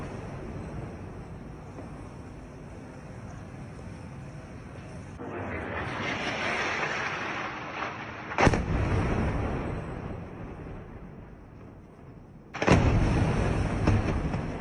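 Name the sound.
explosions from Israeli Air Force strikes in Gaza City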